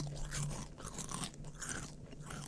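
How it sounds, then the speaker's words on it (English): A horse eats oats with steady, close crunching and chewing, a continuous grinding texture of bites with no talk over it. "You ought to hear this guy eat oats."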